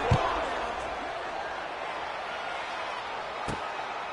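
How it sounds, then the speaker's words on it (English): Continuous buzzing crowd noise in a College Football 26 video game stadium after a score, a dense, steady roar with a sharp thump near the start and another near the end. "this crowd is buzzing after that last score"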